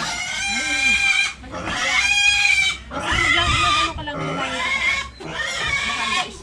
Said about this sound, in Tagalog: Gutom na yung baboy nila.